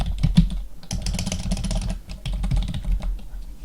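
Typing on a computer keyboard gives a close, continuous run of quick key clicks with brief pauses, including a short gap near the middle, with no speech.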